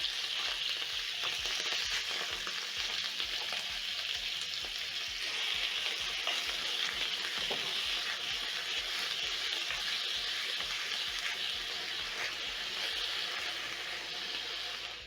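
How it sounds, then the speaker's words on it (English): Beef searing in hot cooking oil in a pan for a beef stir fry, making a loud, continuous sizzle with fine crackling spatter that holds steady for the whole stretch, with no voices. "Once your cooking oil is ready, you're going to add in your beef and sear for around"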